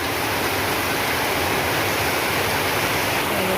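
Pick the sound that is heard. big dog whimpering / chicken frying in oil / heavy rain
heavy rain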